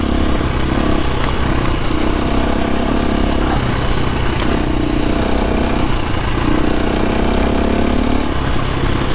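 A KTM 350 enduro motorcycle ridden along a woodland trail, its engine droning loud and close with rhythmic rises and falls in revs as the rider works the throttle.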